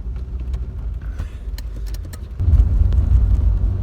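A Renault 25 barn find drives on the road, its engine a low continuous rumble with road noise that swells louder near the end, with no talk.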